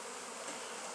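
Honey bees crawl and hum into a NUC box at the Anson Engine Museum after their nest is moved, a steady close buzz of many insects filling the second with no voices.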